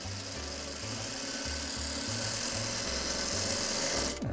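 Sewing machine stitching a quilt block, running in quick rhythmic bursts with short stops between them, a steady mechanical whir close to the microphone and no voices.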